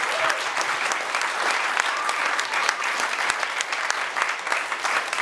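A community gathering breaks into sustained applause, many hands clapping densely and evenly at close range for several seconds without a break.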